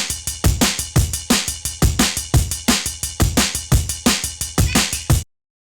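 A jungle drum beat programmed with the Vital synth and built around ringy, metallic snares. It is a fast, steady loop of sharp, punchy hits with broken breakbeat rhythm, loud and dry, ending abruptly.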